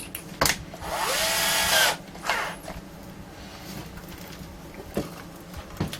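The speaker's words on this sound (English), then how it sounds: "Take that drill bit out and put the step bit back in." Power drill with a step bit boring holes into the bottom of a mixing console's monitor input panel: a sharp burst, then a sustained loud whine lasting about a second, followed by a shorter burst and a few faint clicks.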